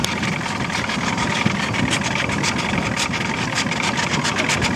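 A ski boat's engine idles on the water, a steady low rumble that holds level and continuous from start to finish with no revving.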